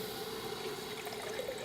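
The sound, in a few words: water poured into pot with Thai curry paste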